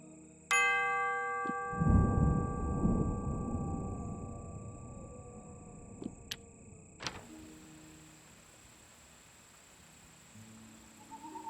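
A bell in the fantasy game Swordhaven: Iron Conspiracy, struck at an old cemetery, rings out with a clear sustained tone that slowly fades, followed by a second bright strike and a lingering hum; no talking.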